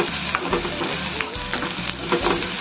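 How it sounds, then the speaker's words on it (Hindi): Green chilies tempering in hot oil give a steady, close frying sizzle with soft crackles throughout, heard alone without talk. "मैं हर सब्जी में हरी मिर्च का ही तड़का लगाती हूँ"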